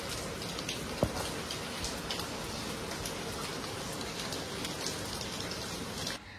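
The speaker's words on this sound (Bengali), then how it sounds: "দেখো বাইরে কেমন ঝড় তুফান বৃষ্টি শুরু হয়েছে, আর চারিদিক পুরো অন্ধকার হয়ে গেছে।" Heavy storm rain pours steadily outside, heard from indoors as a faint, even hiss with one brief click near the start.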